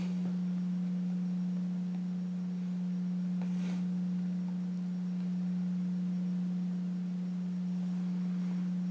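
A Thomas T3 ceiling fan motor running at low speed gives off a steady, close, tonal hum with faint overtones, unbroken for the whole stretch apart from one brief soft rustle.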